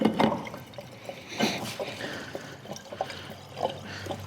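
Fuel poured without a funnel into the tank of a SYM Fiddle IV 125 scooter, a soft, close trickle and gurgle of liquid with irregular splashes.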